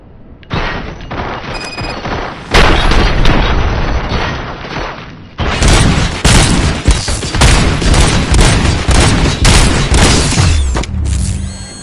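Sustained gunfire from RoboCop: Rogue City, loud bursts of rapid shots and booms packed closely together, with a brief lull before a second long volley, alone without talk.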